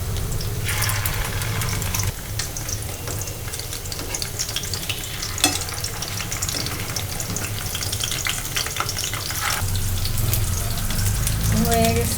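Kofta balls frying in hot oil for a home-cooked meal, a steady close sizzle and bubbling that runs the whole time with a few light scrapes and stirring sounds, no talking.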